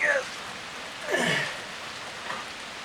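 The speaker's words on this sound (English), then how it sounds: "Quite the rain." Rain falls steadily outside during brake and ball joint work on a 2005 Ford F-350, a constant soft hiss with a few faint breathy sounds over it.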